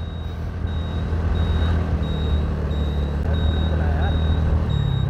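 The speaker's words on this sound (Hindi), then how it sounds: "आवाज़ कर रही गाड़ी, पावर चढ़ाए ना" Vehicle engine droning steadily on a foggy road while the driver travels slowly with the left indicator on; a faint repeating high beep runs over the constant low rumble, and speech-like sound mixes in.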